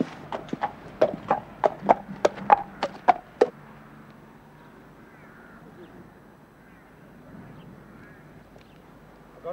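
Horse hooves clip-clop in a brisk, even series of sharp knocks for several seconds, then stop, leaving a quiet low background.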